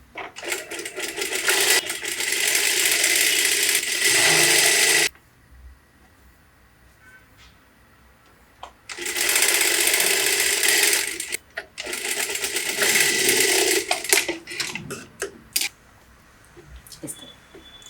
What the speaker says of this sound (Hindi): अब यहाँ हमें स्टिच लगानी है।